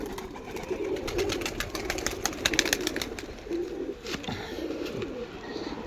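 Pigeons, kept as a breeding pair of fancy Teddy pigeons, coo softly and repeatedly, with low murmuring calls close by and no talking.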